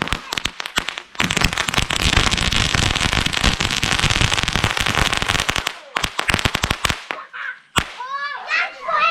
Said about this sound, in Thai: ประทัดดาวเนี่ยบอกเลยว่าจุดแค่นัดเดียวก็ติดนะฮะ